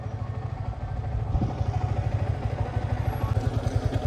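A Yamaha R15 motorcycle, just repaired for an unwanted noise, is ridden with a steady, close engine rumble and light mechanical clatter throughout, with no talking.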